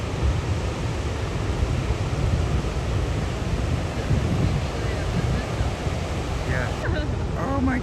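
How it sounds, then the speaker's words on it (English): Surf rolling onto the shore in a broadband wash, with some wind buffeting the microphone as whales pass offshore; a few faint voices come in near the end. "I was watching the waves"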